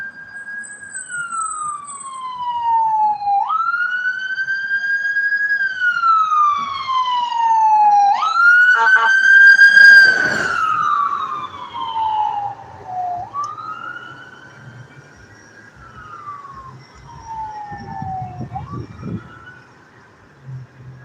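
A loud ambulance siren passes along a highway, its long sweeping wails gliding up and down in pitch, peaking close by midway, then fading as the vehicle moves off amid road noise.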